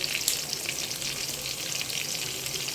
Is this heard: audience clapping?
no